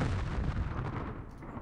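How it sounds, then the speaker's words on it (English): Dense, continuous artillery bombardment in the Campaign Series: Rising Sun wargame, a rice-field battle in the Fall of the Philippines, rumbling loudly and steadily with overlapping booms and no pauses. "They have so much artillery. It's everywhere."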